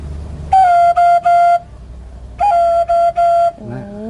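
A Thai khlui flute plays two similar short phrases of three breathy, held notes each, clear and close, separated by a brief pause, with a low background murmur.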